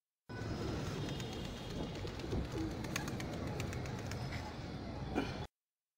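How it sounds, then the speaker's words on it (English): A pigeon coos softly in low, rolling calls against a steady background hum, faint and fairly distant. "Pigeon."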